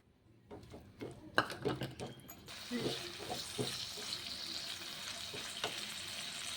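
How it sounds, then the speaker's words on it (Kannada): Onions and masala ingredients roasting in a pan for a paneer gravy, a steady close sizzle and frying hiss with a few scraping stirs and clinks near the start. "ಪನ್ನೀರ್ ನೆನೆಯೋದ್ರೊಳಗೆ ನಾವೊಂದು ಗ್ರೇವಿ ಬೇಕಾಗುವ ಮಸಾಲ ಸಾಮಾನನ್ನು ರೋಸ್ಟ್ ಮಾಡೋಣ"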